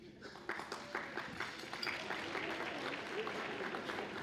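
Audience applause at the 2012 OSU Alumni Hall of Fame induction ceremony: a steady, fairly distant wash of many hands clapping that holds its level from start to finish.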